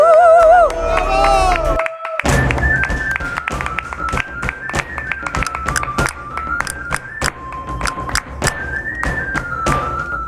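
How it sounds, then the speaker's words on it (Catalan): A studio audience at a comedy-variety TV programme breaks into loud applause with whistles and cheers, sharp clustered claps and shrill whistling over a live band playing. "Aplaudiment!"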